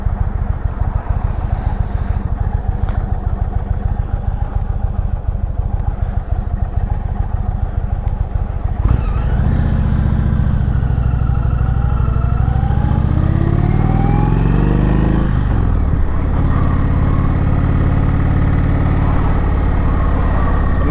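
A 2019 Indian Springfield motorcycle carrying a pillion passenger runs with a steady, vibrating engine thrum. Midway it revs up into a rising howl as it accelerates, then settles back to a loud, close, even drone.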